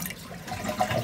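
A toilet is flushed with its water supply shut off while its fill valve is being replaced: a single short rush of draining water, close and fairly loud.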